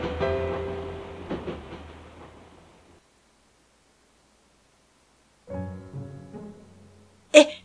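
A train runs along in a visual novel game: a rumbling, clattering run that fades out over a few seconds, silence, then a fresh burst of track noise and a sharp bright chime near the end.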